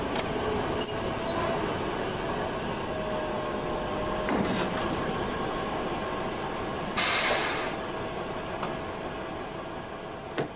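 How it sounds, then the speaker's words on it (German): V200 507, a diesel locomotive arriving to haul a timber train at Parksteinhütten in the Oberpfalz, rolls in with high, thin wheel squeal over a steady rail rumble. A brief louder burst comes partway through, and no one speaks. "V200 507 rollt heran, um einen Holzzug nach Saalfeld zu bespannen."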